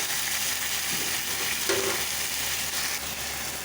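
Masala and chili sauce being stirred in a hot pan for tikka masala macaroni, with a continuous close sizzle and soft scraping stir strokes, one brief louder clatter midway, and no voices.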